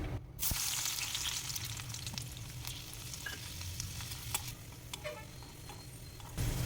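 Lentils sizzle and crackle steadily in hot oil, a dense frying hiss with occasional pops, close by and continuous.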